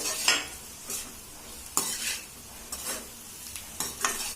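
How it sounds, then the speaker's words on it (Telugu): A spatula stirs chicken into fried rice in a hot pan with a close, steady sizzle and repeated metal scrapes at a loose, uneven rhythm, and no one speaks. "చికెన్ కూడా బాగా కలుపుకోవాలండి."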